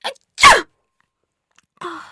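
A single loud, close human sneeze with a quick inhaled lead-in and a sharp burst, then silence and a short voice.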